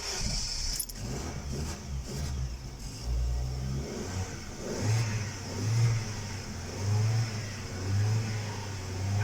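A 2005 Ford Focus 1.4 petrol hatchback engine idles and revs unevenly after starting following a fuel pump replacement, rising and falling in pitch over several seconds, close by.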